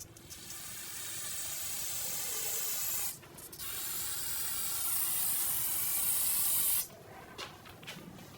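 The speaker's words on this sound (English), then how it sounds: "spray that down with some spray solvent and clean up any of that residual brake fluid" Spray solvent hisses from an aerosol can onto a rear brake hose of a 2009-2017 Volvo XC60 to clean off brake fluid, two sustained close bursts separated by a brief pause, with a shorter spurt trailing at the end.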